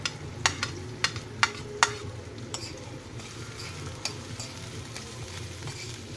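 Garlic and onion fry in a pan with a steady, close sizzle, and a burst of sharp spoon-on-pan clacks comes in the first couple of seconds.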